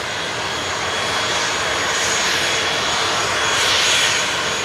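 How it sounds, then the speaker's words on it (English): Steady roar of a small plane's engine out on the Kushiro Airport tarmac in Hokkaido, loud and close, rising gently in the middle before easing, with no one talking. "That little plane makes that much noise."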